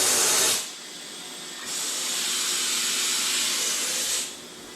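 Compressed air hisses from a tire shop air line in loud bursts that stop briefly and then blast again for a long, steady stretch.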